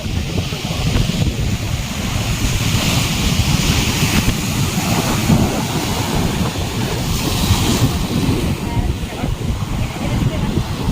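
A constant roar of rough sea surf at Old Digha beach in the evening washes over heavy wind buffeting, loud and unbroken, with waves surging in the background.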